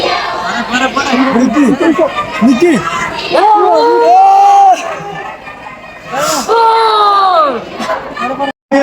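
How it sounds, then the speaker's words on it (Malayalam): A lively school crowd of students and teachers roars and shouts as a high school section's overall first-prize winners go on stage, dense overlapping voices and excited yells rising and falling close by throughout. "ഇത് ഹൈസ്കൂൾ വിഭാഗം ഓവറോൾ ഒന്നാം സ്ഥാനം കിട്ടിയത് സമ്മാനം ഏറ്റുവാങ്ങാൻ വേണ്ടി വിദ്യാർത്ഥികളും ടീച്ചേഴ്സൊക്കെ സ്റ്റേജിൽ കയറിയപ്പോൾ ഉള്ള ആരവാണ് കാണുന്നത്"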